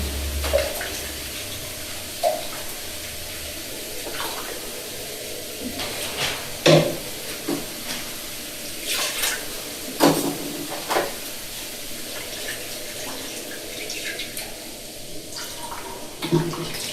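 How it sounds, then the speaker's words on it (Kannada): Sump water poured in a home kitchen while cooking, a gentle splashing pour with a few louder bursts and small clatters, fairly close and with little talk. "ಇದು ಸಪ್ ನೀರು, ಎಷ್ಟು ಬೇಕೋ ಅಷ್ಟು ಹಾಕೋಣ ಅಂತ ಇಟ್ಟಿಟ್ಟಿದೆ"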